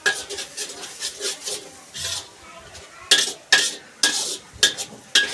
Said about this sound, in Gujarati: હવે આ રીતે આપણે મિક્સ કરી લઈશું